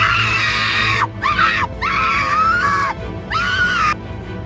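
A woman screams while plunging downward, loud and close, in several long shrill bursts broken by brief gaps, wavering in pitch over a low rumbling background.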